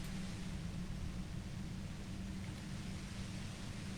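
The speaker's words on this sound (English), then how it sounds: "You hear through the white noise" Steady, even white noise in Disco Elysium, a dense rushing hiss filling the whole range at low level, unbroken and unchanging for the full stretch with no other sounds on top.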